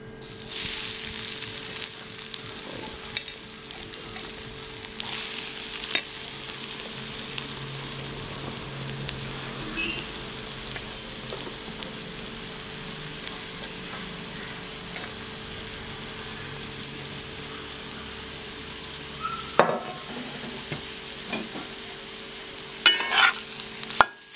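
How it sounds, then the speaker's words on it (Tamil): Elephant yam pieces frying in hot oil, a steady crackling sizzle lasting throughout with occasional stirring clinks and scrapes, no voices. "இனி நம்ம அதை எண்ணெயில் போட்டு ஃப்ரை பண்ணிக்கலாம்."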